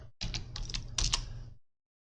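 Quick keystrokes on a laptop keyboard running a Solus Mate 4.3 system come in a close, crisp burst of clicks for about a second and a half, then stop into silence.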